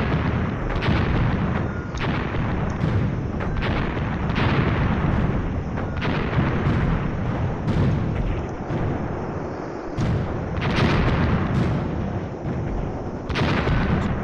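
Continuous loud battlefield din of mortar fire in the video game Graviteam Tactics, with repeated booming impacts and blasts recurring every second or two over a dense rumbling background.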